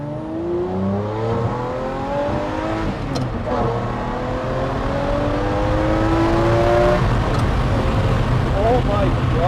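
A Lamborghini Murciélago 40th Anniversary Limited Edition accelerates hard, its engine note climbing in rising sweeps, dropping briefly at a gear change and climbing again into third. The roar is loud inside the car and people talk over it.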